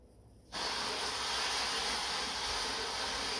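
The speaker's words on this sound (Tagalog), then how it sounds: "Yung tunog ng ulan." Near-silence gives way to a sudden, steady rain hiss that continues evenly and loudly to the end.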